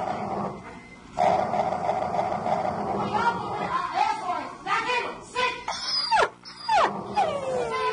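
A distressed dog whimpers and yelps in rising, wavering cries that grow more frequent toward the end, heard up close with people talking around it.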